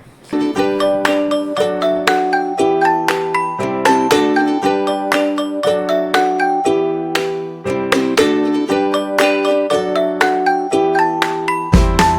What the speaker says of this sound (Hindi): कितनी घंटियाँ मैं यहाँ बैल बजाऊँगी